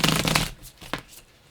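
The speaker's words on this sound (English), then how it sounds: "I forgot to shuffle this deck." Cards from a Nightmare Before Christmas deck being shuffled, a dense close riffle of rapid flicks for about half a second, followed by a couple of softer card slaps.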